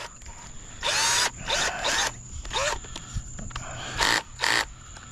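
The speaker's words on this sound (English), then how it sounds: "I'm just using an old Ryobi drill here." An old Ryobi cordless drill whirs in about six short bursts of varying length, close and fairly loud, with quiet gaps between.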